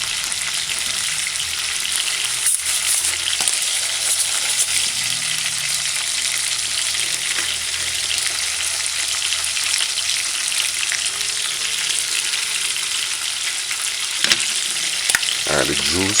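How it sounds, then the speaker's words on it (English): Chicken pieces fry in a hot pan for a pineapple chicken stew, a loud, steady sizzle and crackle that goes on throughout, with a few brief clatters near the end and no talking. "don't turn it, just allow it to fry on one side"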